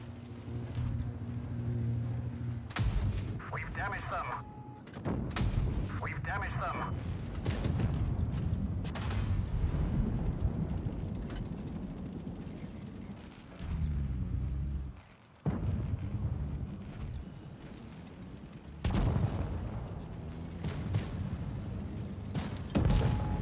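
Heavy tank cannon shots boom in World of Tanks Blitz, a handful of separate loud blasts spaced seconds apart over a rumbling engine bed.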